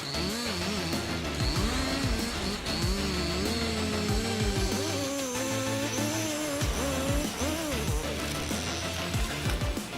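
A heavy-duty chainsaw bites into a giant tree, its engine snarling loud and continuous, the pitch revving up and sagging repeatedly as the chain loads and frees in the wood, with no voices.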